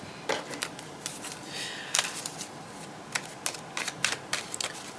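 Tarot cards laid down and shuffled during a reading, a quiet run of soft flicks and slaps in an irregular rhythm, close by with no talking.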